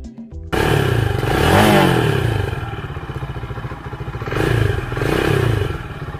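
A Rusi Classic 250 Fi motorcycle engine starts and idles with a rapid, thumping single-cylinder pulse, revving up twice, loud and close.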